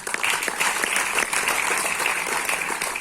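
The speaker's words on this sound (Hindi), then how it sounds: "जोरदार तालियां उनके लिए" An audience at a business achievers' event claps loudly and continuously, a dense, steady roar of applause with no break.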